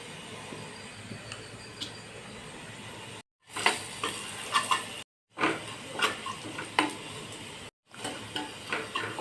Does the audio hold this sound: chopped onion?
yes